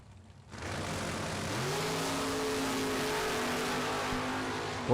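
Drag race cars, including a 1963 Corvette Roadster, launch together off the line at a pro drag strip, a sudden loud engine roar that climbs in pitch and holds steady, heard from a distance with crowd-like wash around it.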